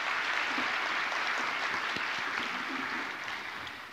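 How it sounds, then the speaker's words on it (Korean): A church congregation gives the choir a big round of sustained applause, dense and steady. The clapping is loud and close throughout and thins slightly near the end. "우리 할렐루야 찬양대에게 다시 한번 큰 박수 부탁드립니다"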